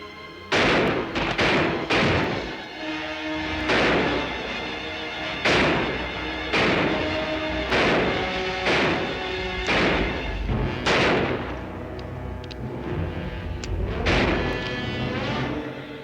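Gunfire rings out in a thriller movie shootout: a rapid series of loud, sharp shots, about a dozen across the stretch, some close together and some spaced apart, with reverberant tails and no talking over them.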